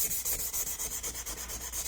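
Light hand sanding across a cured resin surface, a steady rhythmic rasp of back-and-forth strokes, close and even, with no talking.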